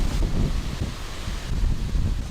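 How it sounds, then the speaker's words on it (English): Gusty wind buffets the microphone outdoors at a garden gate, a steady low rumble with soft rustling, continuous and close with no talk. "Getting windy a little bit."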